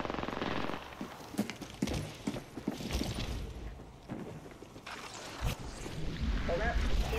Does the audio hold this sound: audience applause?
no